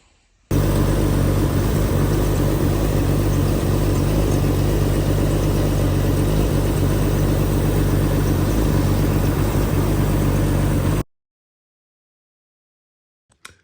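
A Nissan Skyline R34 engine fires up abruptly and settles into a loud, steady idle with a deep low rumble that runs unbroken for about ten seconds, then stops dead into silence.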